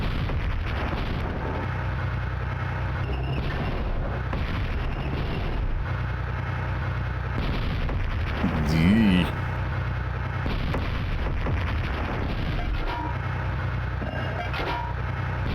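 Repeated explosions and booming rumble fill Lenny Loosejocks in Space, a continuous noisy barrage of blasts with a short rising electronic tone midway and a brief voice exclamation.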